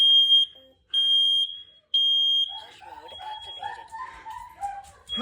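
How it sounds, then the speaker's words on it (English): A smoke alarm sounds three loud, long, piercing beeps in a row, then someone talks over the fading room noise. "Oh, I'm tired of these shitty alarms."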